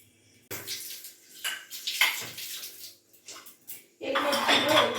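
Pots and utensils being washed in a home kitchen while mutton liver curry cooks: metal clatters and clanks in irregular bursts with splashing water, growing into a louder, steady rush of running water and clinking near the end.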